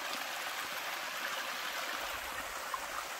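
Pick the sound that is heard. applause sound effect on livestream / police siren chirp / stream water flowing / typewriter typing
stream water flowing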